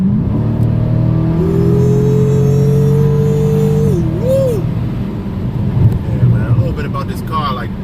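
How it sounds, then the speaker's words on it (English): Car engine roars in a sustained pull, one strong rising note that holds and then bends away, followed by a lower rumble with wind buffeting, close and loud. "Listen to that engine, baby."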